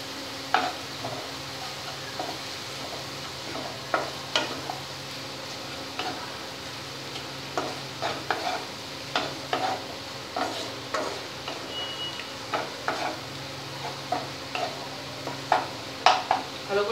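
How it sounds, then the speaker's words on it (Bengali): Spice masala with turmeric being stirred and fried in a pan for a taro root and prawn curry: a steady close sizzle with repeated scraping taps of a spoon at an uneven rhythm, no talking. "ভালো করে মশলাটাকে কষাতে হবে"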